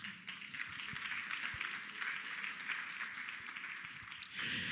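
Steady applause from a sizable audience, a continuous wash of clapping that holds throughout and swells slightly at the end.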